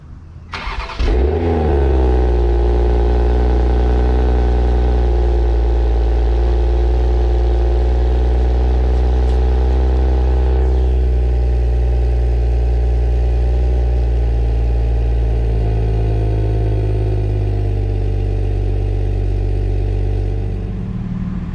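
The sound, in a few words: 2021 Toyota Supra engine cold start and idling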